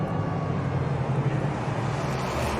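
NASCAR stock cars roar down the front stretch of the Chicago street course in Grant Park, a dense, steady engine rumble that holds at the same level throughout without a clear pass-by.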